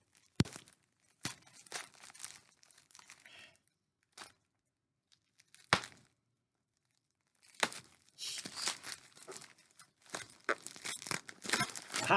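Plastic packaging on a trading card or autograph item being cut and torn open, intermittent crinkling and ripping bursts separated by quiet gaps, getting busier and more continuous toward the end, close up.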